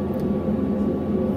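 A British Gas 330 Plus gas boiler, faulty with no hot water, gives a steady low fan and combustion roar at close range, a continuous broadband hum with no talk.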